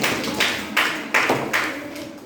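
A few slow, separate claps come one after another in a classroom as students applaud a classmate who answered, each sharp burst standing alone with short gaps between.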